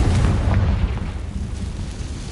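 Confringo fire blast spell exploding in the Hogwarts Legacy video game: a loud, deep boom that rumbles at the start and slowly fades through a low, heavy tail.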